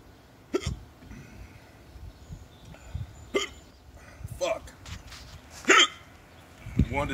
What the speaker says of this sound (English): I need the hiccups to stop.